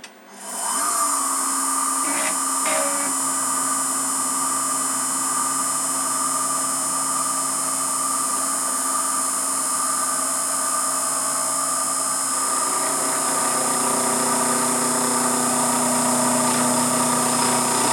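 An Emco F1 CNC mill cutting metal on an Emco lathe toolholder at a steady 1.65 mm first pass, a constant whining spindle and cutting drone with brief clicks early on and a slight change in tone partway through.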